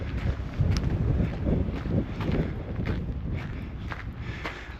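Breezy coastal wind buffets the microphone along a shore path in Bar Harbor, Maine, a steady low rumble with irregular gusts under soft footsteps.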